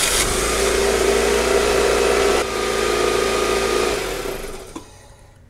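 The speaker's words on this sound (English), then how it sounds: "my brother's gonna go ahead and start the car in a second" A car engine runs loud and close, a steady mechanical whine and hum that shifts briefly midway, then winds down and fades near the end, with no talk over it.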